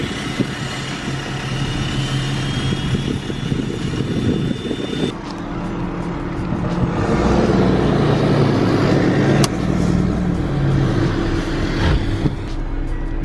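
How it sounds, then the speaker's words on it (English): A truck engine with its exhaust deleted, parked in an auto parts store lot, runs loud and close, shifting to a rougher, deeper rumble partway through and holding a raspy idle. "waiting for the guy to come out and start his truck up because I can tell that it's deleted"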